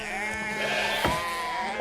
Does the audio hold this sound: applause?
no